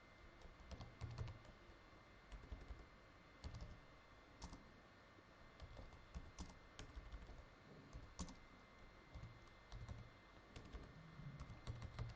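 Typing on a computer keyboard during a Laravel coding session, a steady stream of soft, close key clicks with occasional louder taps, alone with no talking.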